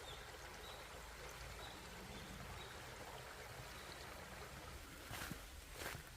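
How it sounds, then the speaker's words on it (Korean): Stream water flowing through a bamboo forest path in a Korean mountain village, a soft continuous wash of trickling water with faint splashes near the end. "대나무 숲길 사이로 물이 이제 빠져나가네요"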